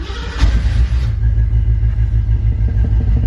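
A 1968 Ford Mustang Fastback's engine cold starts, a brief starter burst giving way to a loud, deep, lumpy idle that rumbles steadily up close.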